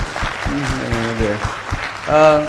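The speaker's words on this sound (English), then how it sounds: "That's a huge round of applause for what he wants to do actually." A crowd applauds steadily at the StratNewsGlobal Catalyst 2022 annual event following Nitin Gadkari's address, with a voice talking loudly over the clapping throughout and the applause swelling near the end.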